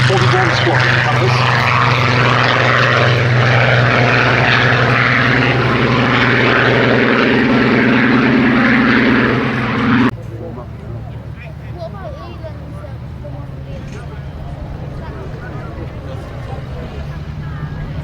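A Supermarine Spitfire Mark 14 in post-war No. 41 Squadron colours flies past at the Duxford air show, its loud droning piston engine filling the air before dropping off sharply to a quieter distant hum, with a crowd murmuring throughout.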